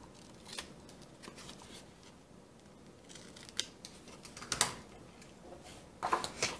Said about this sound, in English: And we're going to cut these corners off.